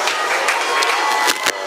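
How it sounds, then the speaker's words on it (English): Cheering and clapping crowd at a St. Kitts and Nevis Independence ceremony as national hero Dr. Sir Kennedy Simmons departs, a loud, continuous burst of applause and shouts lasting under two seconds. "The Right Excellent Dr. Sir Kennedy Simmons, national hero, has gotten a rousing round of applause as he departs"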